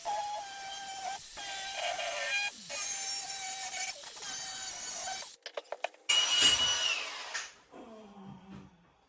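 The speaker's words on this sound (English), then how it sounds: "we're just going to rattle them down tight with the impact" Power tool work on timber joists being spliced and bolted, with a steady drill-like whir for several seconds, then short sharp bursts of an impact gun rattling nuts down tight on bolts through the wood, no talk.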